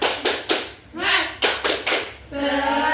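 A classroom clapping chant, the Indonesian "tepuk semangat" spirit clap, in a microteaching lesson: bursts of rhythmic group clapping alternate with a child chanting along, loud and close.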